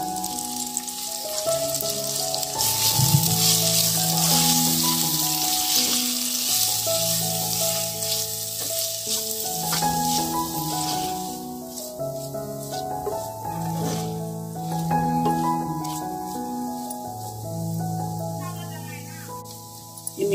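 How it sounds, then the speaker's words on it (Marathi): Tomatoes go into a Konkani-style crab curry on a wood-fired stove, and a steady, close sizzle of frying runs throughout beneath background music. "टमाटर मध्ये टाकून घेते."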